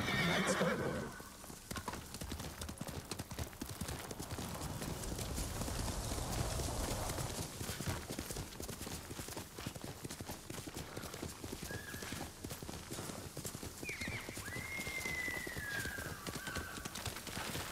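Horse hooves clip-clop steadily throughout, with a loud whinny near the start and another neigh late on, against a busy game soundscape in Ghost of Tsushima.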